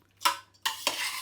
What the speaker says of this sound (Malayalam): ഈ കൈലി കൊണ്ടൊന്ന് ഇളക്കണം.